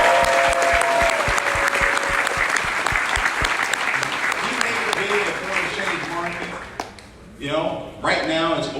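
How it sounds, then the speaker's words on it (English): Loud applause from a large seminar audience in Sunrise, Florida, greeting guest Christopher Terry, dense clapping that swells and thins out, with a voice over the crowd near the end. "Christopher Terry, let's give him a big round of applause."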